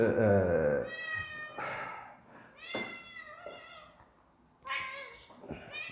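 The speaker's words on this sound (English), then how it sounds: "Here's the complainer. Meow, meow, meow." A cat meows several times in a row, loud and close, with long harmonic cries separated by short pauses.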